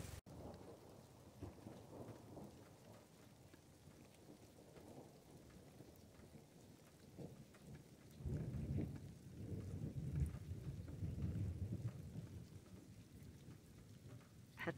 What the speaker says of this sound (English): So not only is it raining, but it looks like it might have hailed or snowed.